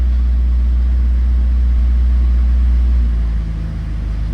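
A Mazda Miata engine with a P0118 coolant temperature sensor fault, running right after starting, gives a loud, steady low idle rumble that dips slightly near the end.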